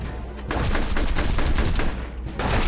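Rapid bursts of gunfire in the Field Commander video game crackle loud and close, a dense fusillade of overlapping shots with a short lull near the end before the firing picks back up.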